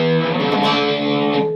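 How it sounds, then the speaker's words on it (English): Yamaha GEP50 digital rack effects unit running its Punk Distortion preset on an electric guitar, giving a sustained, heavily distorted chord that rings loud and steady with no talking. "This preset, it shouldn't be called Punk Distortion, it should be called Putin Distortion"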